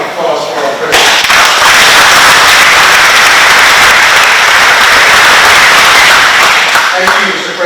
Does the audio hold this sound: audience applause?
yes